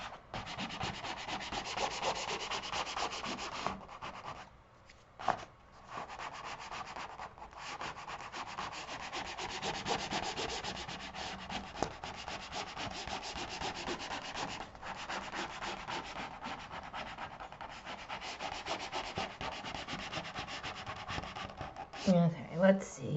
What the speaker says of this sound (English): And we'll burnish again.